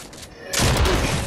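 Gunfire in a multiplayer shooter video game: a short, loud burst of rapid shots that suddenly swells to a dense roar after a quieter start, with no voices.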